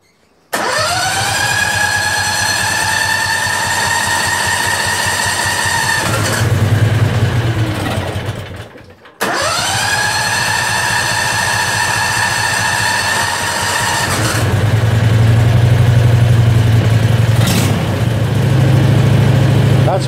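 Predator 670cc engine with a little choke cranking and firing into a loud, steady close-up run, then cutting out and being restarted to run again, revving slightly toward the end; no voices.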